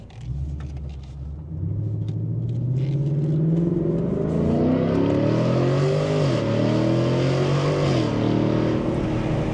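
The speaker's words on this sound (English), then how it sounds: "Does have some nice little pops and shit with this the exhaust setup that we got." A Ford Mustang GT S650 V8 with an aftermarket exhaust revs up from a low idle, its loud rumbling engine note climbing and falling in a few sustained pulls heard from inside the car.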